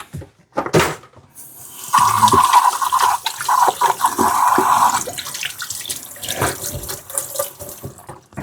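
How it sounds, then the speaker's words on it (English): A tap runs into a sink as hands are washed in a clinic room, a steady close splashing flow that rises and falls, with brief movement noises before and after and no talk. "Let me wash my hand."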